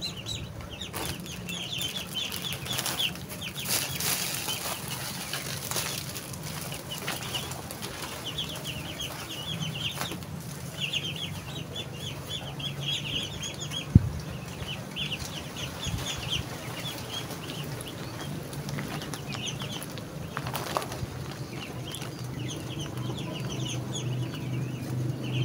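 One-month-old Muscovy ducks call in a pen, with repeated nearby chirps and clucking peeps scattered over a steady background and one sharp knock midway.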